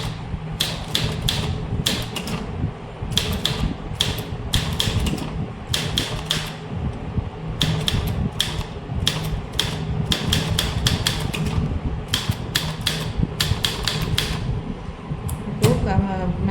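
Dense, rapid clatter of manual typewriter keystrokes typing a company name in all capitals with shift lock engaged, steady bursts of strikes with brief pauses and a carriage sound near the end, close and loud.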